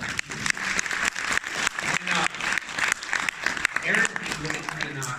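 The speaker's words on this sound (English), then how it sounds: "I want a round of applause for that." Audience applause at Comic Con Liverpool 2020: a dense crowd of hands clapping in quick, irregular bursts that continue steadily throughout, with voices mixed in.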